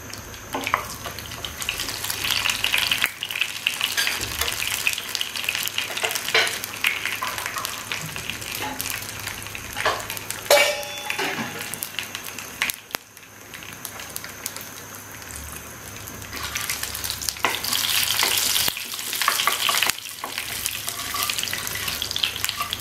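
Dried chili and Bengali five-spice frying in hot oil, a continuous close sizzle with stirring and a few brief clinks, no voices.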